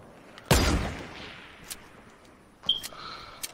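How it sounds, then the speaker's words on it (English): Gunfire in a Fortnite match: a sharp, loud blast with a decaying boom, then fainter scattered distant shots and a brief high electronic whine, with no talking. "There's people shooting."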